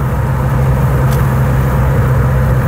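A 2019 Ford Fiesta ST with 200 hp accelerating on a road, heard from inside as a loud, steady low engine drone with road rumble that holds throughout.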